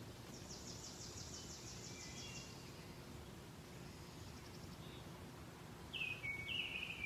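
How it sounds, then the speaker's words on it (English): Birds calling outdoors in a quiet, still setting: a thin, rapid trill of chirps early on, then a brief louder burst of high twittering near the end, with faint insect-like background hum between. "As I continue to sit here in the stillness, more birds arrive."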